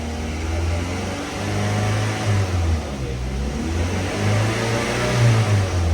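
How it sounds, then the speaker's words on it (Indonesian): A Daihatsu Xenia with an overheating problem idles and is revved around 2000 RPM, its steady mid-pitched engine hum rising and falling slightly as the throttle is held, close up with no talking. "Ini juga kita gas gini biar RPM temperaturnya cepat naik."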